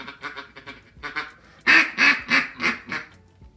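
A duck call blown in a rapid feeding chuckle gives a run of quick ticking notes that builds into a louder series of raspy quacks, close and alone.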